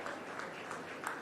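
Brief burst of audience applause at the inauguration of Ahmedabad Design Week 2026, a dense, even patter of many hands clapping at moderate distance.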